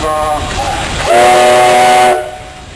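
A steam locomotive in a parade sounds its loud whistle nearby, a sustained harmonic blast layered over rumbling engine noise, then it cuts off.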